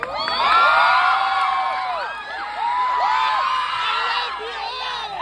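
A large crowd at a public event with a congressman and governor present shouts and cheers loudly, with rising whoops and children's yells layered in continuous waves that dip briefly and swell again.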